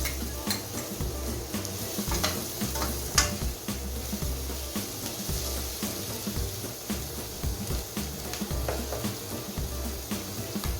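A vegetable stir fry with bulgur sizzles steadily in less than a tablespoon of oil, a faint continuous crackle under soft stirring scrapes and an occasional clink of a utensil against the pan.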